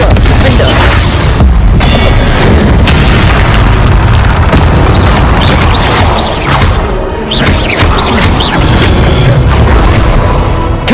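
Confringo blasting spells exploding in Hogwarts Legacy combat, a dense, loud stretch of repeated booms and crashing bursts layered over a continuous rumble, with brief voice shouts in the mix.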